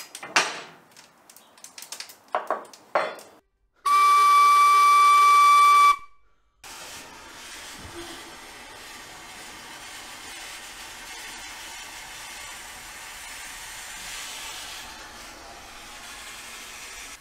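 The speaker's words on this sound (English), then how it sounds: "First the steam comes in this end, pushes the piston back" A mine's steam engine runs with a steady, continuous hiss of steam, preceded by a few short clanks and a shrill whistle-like tone.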